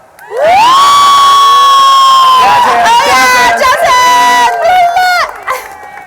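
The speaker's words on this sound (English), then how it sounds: "I'll say 1, 2, 3 and then just cheer and clap." A fashion panel audience at Style Week OC cheers loudly on cue, with high whoops and shouts over clapping that swell together and fade after several seconds.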